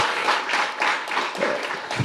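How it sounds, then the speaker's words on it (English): Steady applause from an audience at an awards event, many hands clapping together at an even level for a couple of seconds. "So kindly let's clap for the organizations for this event."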